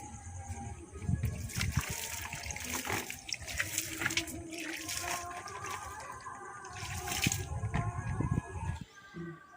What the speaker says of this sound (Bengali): আমি গাছগুলোতে জল দিচ্ছি